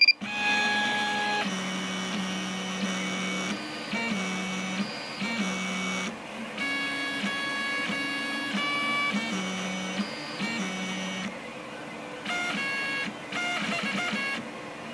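A Rostock MAX v2 3D printer, before vibration dampers are fitted, runs its stepper motors in a tonal singing whine that shifts pitch in short bursts and pauses as the print moves, close and fairly quiet, with no talk.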